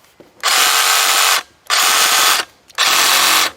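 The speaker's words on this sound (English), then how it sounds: "Not too bad for a reciprocating saw. A little bit more vibration than I like," Hart 20V cordless reciprocating saw running free in three loud bursts of about a second each, its buzzing motor and rattling blade stroke switching on and off with short pauses between, close up.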